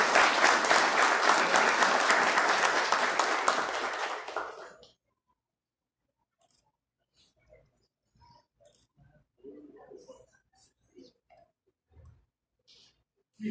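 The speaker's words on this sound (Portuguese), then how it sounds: "A comenda de cidadão maitaense ao padre José Arnoldo de Lima Salles, que eu peço uma salva de palmas." An audience at a formal municipal council ceremony awarding honorary citizen titles breaks into full, even applause for about five seconds, then it cuts off into near silence with only faint scattered shuffles and murmurs.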